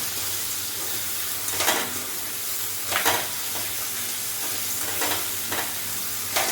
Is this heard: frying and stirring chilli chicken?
yes